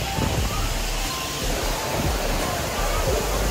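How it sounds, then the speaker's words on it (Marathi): A monsoon waterfall at Malshej Ghat roars as a dense, steady wash of rushing water with wind buffeting the microphone, loud and unbroken. "धबधबा."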